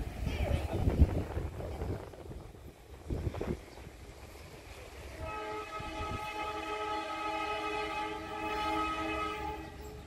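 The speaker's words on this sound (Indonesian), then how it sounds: "Dimulai dari kedatangan KA Kamandaka dari Cilacap dengan tujuan akhir Semarang Tawang via Purwokerto Tegal Pekalongan" The Kamandaka passenger train arrives at Kroya station, rumbling in with clanks before a long, steady horn blast rings out over the platform; a voice talks briefly early on.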